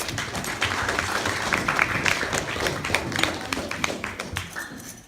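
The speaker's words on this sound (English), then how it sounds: "Give an applause." Audience applause: a dense, continuous patter of many hands clapping at close range, steady for about five seconds before tapering slightly at the end.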